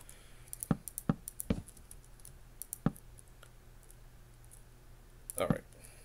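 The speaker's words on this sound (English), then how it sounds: "my clicking skills are terrible" Computer mouse clicks while building a windmill in a game, a few sharp isolated clicks spaced irregularly over a quiet background, close and dry, with a small cluster near the end.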